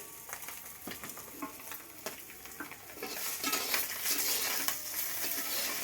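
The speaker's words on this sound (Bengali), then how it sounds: "দেখুন বন্ধুরা, মাছ ভাজা রেডি, মাছ হয়ে গিয়েছে।" Small puti fish frying in a pan for a Bengali mustard fish curry: a soft, continuous sizzle with repeated stirring scrapes and light utensil taps that grows louder and busier halfway through, with no talking.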